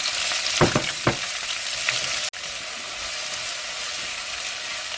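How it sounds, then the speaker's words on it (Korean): Paprika stir-fried in a hot pan: a steady, close sizzle with bursts of crackling and spatter early on, and no voices. "달궈진 팬에다가 파프리카를 넣고서"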